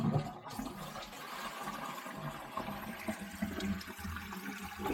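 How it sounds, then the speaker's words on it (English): A household toilet flushes nearby after a leak repair, the rushing water swirling and draining steadily for several seconds before the tank begins refilling. "All right, let's flush it."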